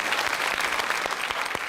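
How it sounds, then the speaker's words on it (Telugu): Loud, dense applause from an audience at a Telugu children's TV show taping, steady clapping throughout with no talk over it. "అందుకని నీకు గట్టిగా క్లాప్"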